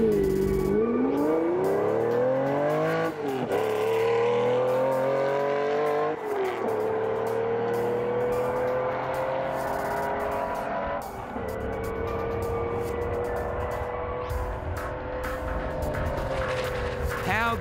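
A car engine hums and revs steadily while driving, rising in pitch through gear changes, with road and tire noise underneath and occasional faint voices.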